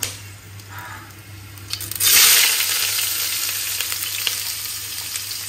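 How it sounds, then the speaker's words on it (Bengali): Onion and green chili dropped into a pan with lightly fried carrot and beans, with quiet low background at first, then a sudden loud sizzle that bursts up and keeps hissing steadily close by. "পেঁয়াজ আর কাঁচা লঙ্কাটা দিয়ে দেবো"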